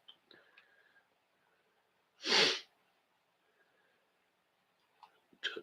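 A single sharp sneeze bursts out in a quiet room, preceded and followed by faint breaths and small clicks.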